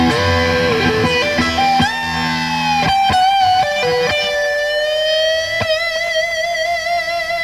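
Electric guitar through a mini amp driving a miked cabinet plays a loud, sustained, bending lead line with sharp picked attacks, heard up close and alone.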